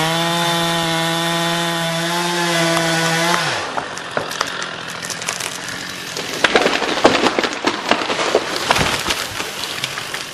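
A chainsaw makes the back cut to fell a tree with some rot up the middle, steady tonal engine drone at first, then rough, crackling cutting noise as the blade chews through the wood.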